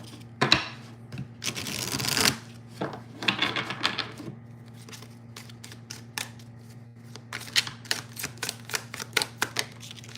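Tarot cards being shuffled in bursts of riffling and sliding, then a run of sharp, separate card snaps and taps as cards are pulled, close and clear over a steady low hum.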